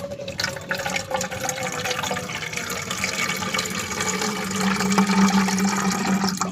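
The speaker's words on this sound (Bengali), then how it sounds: "আরেকবার ছেঁকে দিই, গুঁড়ো টুড়ো পড়লো নাকি, একটু ছেঁকে দিলেই ভালো হবে।" Water soaked with apple and pear peels is strained, giving a steady close trickle and splash of liquid pouring through a strainer that continues without pause.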